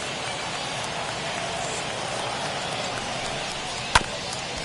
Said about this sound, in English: it is really coming down out there. This isn't an easy sport to play in the rain.